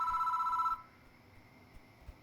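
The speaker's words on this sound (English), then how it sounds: "The phone rings." A telephone bell rings in Spirit Hunter: Death Mark, a steady electronic trill lasting under a second before cutting off abruptly into quiet room tone.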